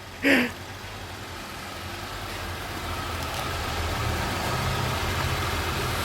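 A car engine idles with a steady low rumble after a brief short sound at the start, the hum continuing evenly throughout.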